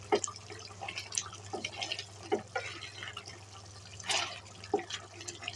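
Beef cooking in a pot releases its juices, heard as close, intermittent wet bubbling, sizzling and small liquid pops in an irregular rhythm, fairly quiet.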